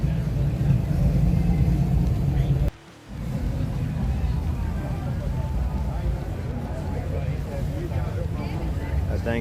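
A Hemi-engined car rumbles at a car meet, a steady, heavy low drone that briefly cuts out near the three-second mark, then resumes under faint crowd hubbub.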